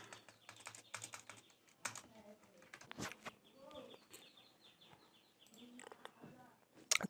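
Bursts of rapid clicking keystrokes on a computer keyboard, close and crisp in irregular runs and pauses, with faint background sounds between.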